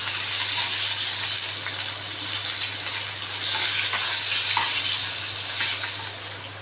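Hilsa fish fried in oil in a home kitchen, giving a steady broadband hiss and sizzle that holds evenly throughout and fades slightly at the end, with no talk.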